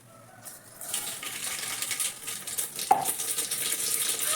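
Hot oil starts hissing and crackling as mustard seeds are added, building into a steady sizzle with a brief sharp clink partway through.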